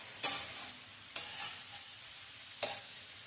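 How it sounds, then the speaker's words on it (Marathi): Grated carrots for carrot halwa are stirred and sautéed in a pan. Three brief scraping strokes cut through a quiet background sizzle. "तर असं परतून त्याचे जरा कच्चेपणा काढून घ्यायचा"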